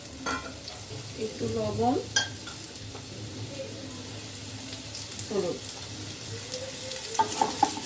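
Potatoes fry in hot oil in a wok with a steady sizzle, broken by utensil scrapes and stirring clatter. Someone speaks briefly over the cooking.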